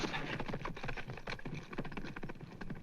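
A running horse clip-clops in a Western sitcom scene, a quick, uneven patter of hoofbeats heard fairly close and fairly quiet for nearly three seconds, with no speech over it.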